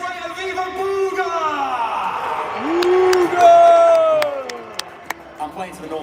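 A crowd cheers and whoops at an esports Fortnite FNCS live event, a loud roaring swell under an announcer's excited voice, with sharp claps and shouts punctuating it.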